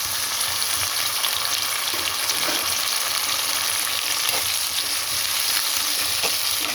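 Onions sizzle steadily in a pan as they fry to a reddish brown for a potato and vegetable curry, a dense, even crackle at close range with faint stirring and no talk.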